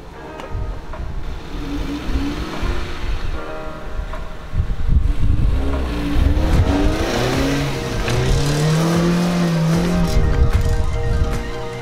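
A Toyota Corolla AE95 engine revs and pulls as the car is driven a short way up toward a shed, its pitch rising and falling through gear changes, loud and close with no talk.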